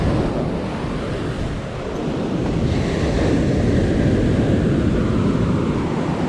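Ocean waves roll and wash ashore at Praa Sands beach, a broad steady surf roar mixed with buffeting wind noise on the microphone, no voices.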